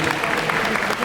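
Audience applause fills a hall at a Black Desert FESTA 2023 game festival event, a dense, steady clatter of clapping from a large crowd, loud and continuous for about a second.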